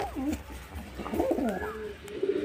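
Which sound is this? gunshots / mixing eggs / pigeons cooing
pigeons cooing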